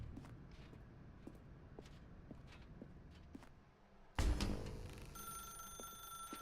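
In The Stanley Parable Ultra Deluxe, faint footsteps tap through a quiet dark room, then a telephone suddenly starts ringing with a loud, bright electronic tone that continues to the end.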